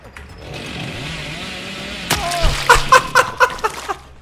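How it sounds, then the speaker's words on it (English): Billy's chainsaw in the Dead by Daylight video game revs with a steady buzzing drone, then breaks into a burst of sharp, rhythmic revving pulses near the end, loud and close. "I'm gonna 360 when I chainsaw."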